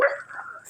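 A dog gives a single short bark or yip close by, a quick bright burst that trails off into a brief whine, with no talking during it.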